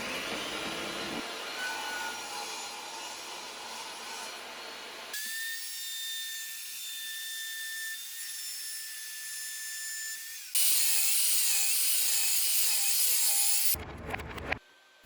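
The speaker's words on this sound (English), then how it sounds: "The saw has made a much bigger impact in the workshop than I expected." A power saw cuts wood for a handmade front door in a home workshop. Loud, close, sustained whining and rasping runs in distinct stretches, with the pitch and character changing between passes.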